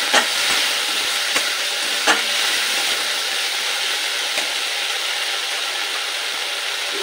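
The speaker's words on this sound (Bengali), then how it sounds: "এবার পেঁয়াজের পেস্টটাও 1 মিনিট একটু কষিয়ে নেব, যাতে পেঁয়াজের কাঁচা গন্ধটা চলে যায়।" Onion paste and tomato sizzle steadily in a pan, with occasional soft scrapes and clicks of a spoon stirring, heard close and with no talking.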